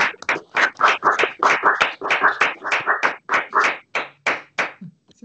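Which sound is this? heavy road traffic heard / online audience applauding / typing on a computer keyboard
online audience applauding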